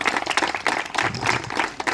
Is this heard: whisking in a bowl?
no